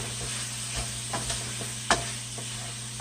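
A spoon stirs oregano into a simmering beef and deer meat soup in a pot, giving soft scraping strokes and a couple of sharper clinks against the pot over a faint sizzle, close up with no talking.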